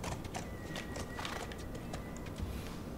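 Horse hooves clip-clop in the video game The Last of Us in a quick steady rhythm over a constant low rumble, fairly loud and close.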